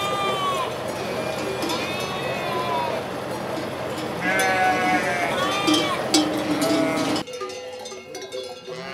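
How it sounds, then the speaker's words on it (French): Ewes bleating as they come off transport trucks at night during a transhumance, several overlapping calls near and far with cowbells clanking and people talking in the background. "observant d'un œil expert la sortie des brebis des camions"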